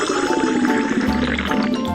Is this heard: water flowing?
yes